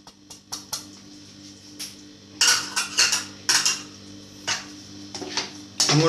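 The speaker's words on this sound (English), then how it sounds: "I'm going to take the cheese block and start grating it over our sauce" A block of cheese is grated over a pan of mushroom cream sauce with chicken, giving a run of close, dry scraping strokes in short bursts, with light clinks of metal utensils in a quiet kitchen.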